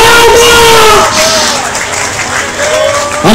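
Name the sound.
congregation applauding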